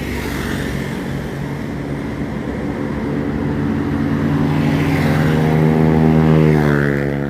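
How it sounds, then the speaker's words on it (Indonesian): A bus coming from West Sumatra approaches along a wet road in Palembang, its engine drone building steadily and growing louder as it nears, with a low harmonic hum running throughout and no talk. "Ada nampak dari kejauhan ada lagi bus yang datang dari Sumbar."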